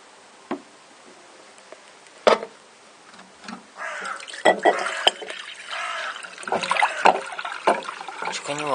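Water poured into a bucket of diluted disinfectant, starting with a few sparse drips and splashes before a fuller, steady filling gush in the second half, with some voice sounds mixed in.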